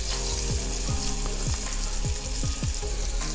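Batter-dipped pomfret fish sizzles loudly in oil on a pan over a wood-fired stove, a dense close crackle with repeated short pops and bubbling bursts.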